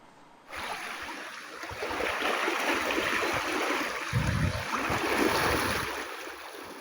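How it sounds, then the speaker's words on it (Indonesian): The swift current of the Cipeles River rushes steadily, a broad continuous roar of water that rises sharply at the start and holds, with low buffeting bursts midway. "Petugas gabungan harus melewati aliran deras Sungai Cipeles untuk menjemput korban."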